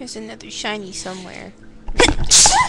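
One sharp, loud sneeze bursts out close to the microphone during a Fatal Frame IV game stream, right after a stretch of the streamer's talk.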